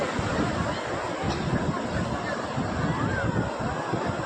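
Sea waves wash on Mypadu beach near Nellore in a steady, broad roar mixed with wind noise on the microphone and faint background voices.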